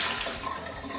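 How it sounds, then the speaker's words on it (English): Tap water runs steadily over potatoes with their skins on as they are rinsed in a sink, a close, even splashing hiss with no talk. "Just rinse them really well with water."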